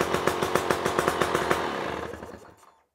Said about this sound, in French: Tu as bien le démarrage de ta moto qui est là